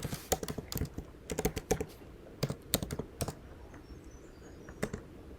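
Keys on a computer keyboard are tapped in short, quick bursts of clicks with brief pauses between them while a web address is typed into a browser search bar, quiet and close with no talk.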